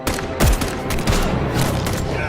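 A burst of gunfire, several loud cracking shots in quick succession over a dense, noisy background.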